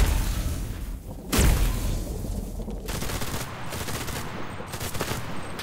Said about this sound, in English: Now I got two guys shooting at me, by the way.